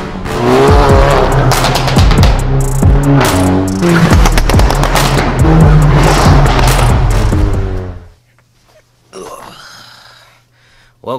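A VW Golf GTI Mk7 with the catalytic converter and muffler deleted revs hard and loud, with sharp rising and falling engine notes and crackles. It then cuts to near-silence with a low hum and a brief burst of noise.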